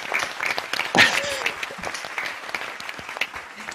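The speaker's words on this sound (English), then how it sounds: "I now warmly welcome you to unmute yourselves and cheer and clap for each other." Graduates of the 2021 School of Psychology class cheering and clapping over an online call, a scattered patter of claps from unmuted participants with a brief louder whoop near the start, fairly quiet overall.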